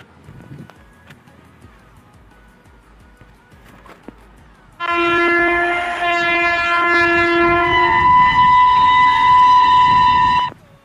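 A downloaded train horn sound plays on a phone, preceded by quiet background noise, then a loud sustained multi-tone horn blast holding for about six seconds before cutting off.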